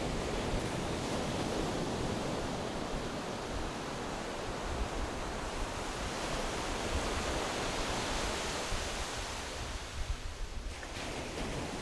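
Sea surf rolls against the Blanchisseuse north coast of Trinidad in a steady, broad wash of waves, with wind buffeting the microphone throughout and no speech.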